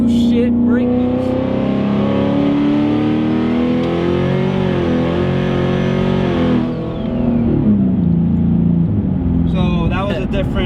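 A 2014 turbocharged Mustang holds a loud brake-boost launch: engine note held and rising, then dipping near the seventh second before climbing again, with someone talking over it throughout.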